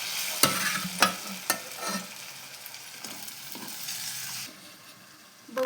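Chicken sautéing in masala gives off a soft, steady sizzle, with a few sharp spatula knocks early on and the frying quieting toward the end.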